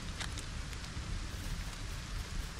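Steady rain in the video game Lego Fortnite, a dense continuous hiss of falling drops with a few slightly louder patters, alone and fairly loud throughout.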